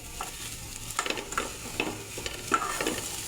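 Vermicelli being stirred in melted sugar for sweet zarda semai, a low sizzle under a run of soft scraping and tapping spoon strokes against the pot, close and fairly quiet, no voices.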